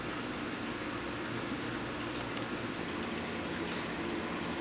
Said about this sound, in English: now I'm about to overflow a tank, so gotta go turn off the water